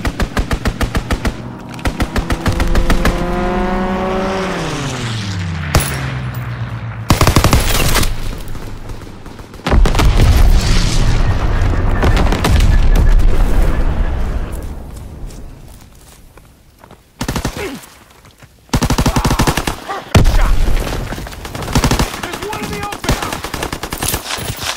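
A fighter plane strafes a target in the video game Call of Duty WWII, with a whining engine swoop followed by long, loud bursts of rapid machine-gun fire and short pauses between volleys, punctuated by scattered single shots.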